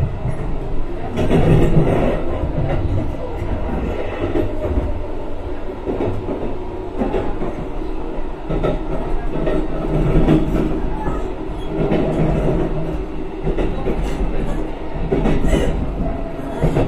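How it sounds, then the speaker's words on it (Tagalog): A train in Japan rolls past a station, a loud continuous rumble of wheels and carriages with rhythmic rail clatter and some metallic squeal, heard close up with no talking. "tren ng Japan"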